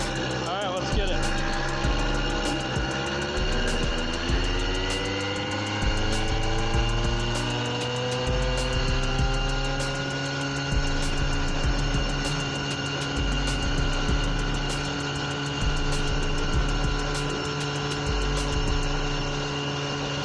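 Small bike engine on a top-speed run, a steady buzzing drone with a rising whine that climbs and settles, close and continuous, with periodic pulses and ticking throughout.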